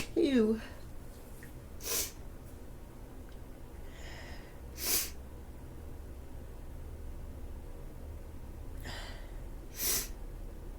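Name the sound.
sneezing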